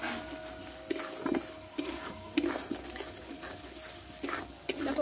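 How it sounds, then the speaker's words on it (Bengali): Chicken and potato pieces are stirred into a spice masala in a pan, giving a series of scraping, clinking strokes of a spoon against the pan over a soft sizzle, fairly close and with no talking. "এবার কষে রাখা আমি চিকেন আর আলুটাকে আমি দিয়ে দেবো, এতে দিয়ে একসঙ্গে কষতে লাগবো"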